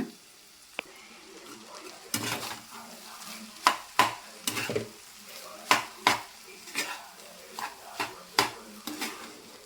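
Egg being stirred into hot cooked rice in a pan, a spoon or spatula scraping and knocking against the metal in an irregular rhythm of sharp clinks over a soft sizzle, close up with no talking.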